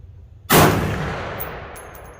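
A single loud, close rifle shot from a 350 Legend firing an experimental 90-grain zinc bullet over a chronograph. A sharp crack follows a quiet lead-in, then a long ringing decay with faint metallic pings afterward.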